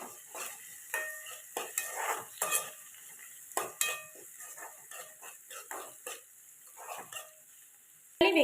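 Onions, green chillies, tomato and curry leaves sauté in a pan for chicken curry, with soft sizzling and repeated stirring scrapes at a moderate distance, ending with a sharp clank.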